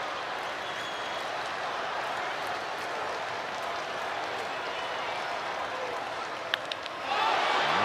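A baseball stadium crowd roars steadily during an Angels game, a broad distant wash of cheering that swells louder at the end as the ball is ripped off the bat, with a commentator talking over it.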